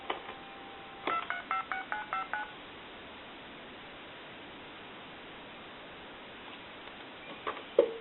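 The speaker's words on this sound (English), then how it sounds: "I'll dial, like, say, a time and temp number." Spirit of St. Louis speakerphone telephone under repair dialing a number: a quick run of about eight crisp DTMF tone beeps in steady rhythm over a background hiss, then faint clicks and a brief tone near the end.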